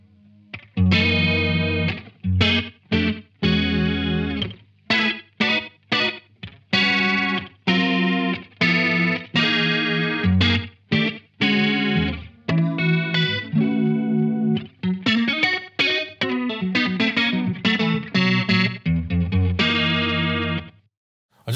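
Electric guitar phrases run through a Boss CE-2 chorus pedal at high rate and depth, with a slapback delay, giving a warbling, shimmering tone on choppy single notes and short chords, played close with no talking.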